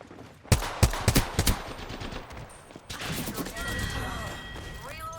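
Gunfire in the Apex Legends shooter, with the R-99 submachine gun: several sharp, close bursts of rapid automatic fire crack out, followed by a quieter stretch of game effects and ringing tones.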